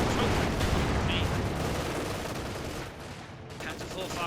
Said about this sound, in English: Panzer 4 firing away.